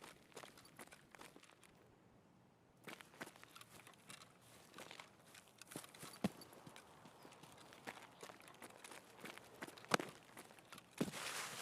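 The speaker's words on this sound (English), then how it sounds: "Did I just hear more footsteps?" Footsteps of a player character in the video game Escape from Tarkov, a steady run of soft thuds and crunches across the clip, moderately close, set against a busy, noisy game soundscape with no speech.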